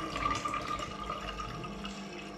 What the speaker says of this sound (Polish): Bierzecie wodę i wlewacie